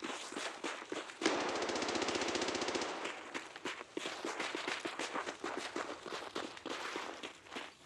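Firefight gunfire in the video game Escape from Tarkov: a sustained automatic burst dominates the first few seconds, followed by scattered single shots and footstep-like clatter continuing to the end.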